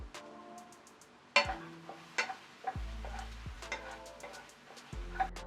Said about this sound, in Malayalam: അതേപോലെ തന്നെ നല്ലപോലെ ഫ്രൈ ചെയ്തെടുക്കുകയാണ് കേട്ടോ